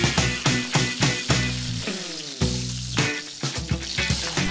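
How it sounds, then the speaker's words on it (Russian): An oven-warmed steak sears in a well-heated frying pan, loud sizzling crackle in rhythmic surges, close by with no talking. "на хорошо разогретой сковороде для предварительно подготовленного в духовке мяса, прогретого, для появления румяной такой поджаристой корочки достаточно 45-60 секунд"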